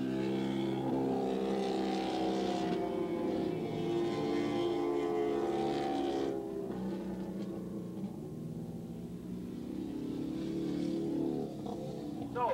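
Motorcycles race at Willow Springs International Raceway in a 1986 ARRA novice 601cc-to-open class that includes a Suzuki: a loud, continuous engine drone rises and falls in pitch as bikes pass, with no voices.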